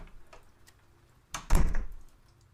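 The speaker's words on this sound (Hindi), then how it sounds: "दरवाजा तोड़ा गया," A door is forced and broken down: a sudden heavy bang followed by a loud, low crashing thud that rumbles for about half a second, then fades into quiet.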